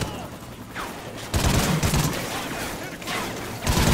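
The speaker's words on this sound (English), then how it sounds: "Dude, shoot him, please." Gunfire in the video game Call of Duty Ghosts, with bursts of rapid shots breaking out loud and close after a quieter stretch, over a busy combat backdrop with faint voices.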